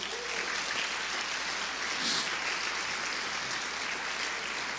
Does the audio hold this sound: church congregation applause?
yes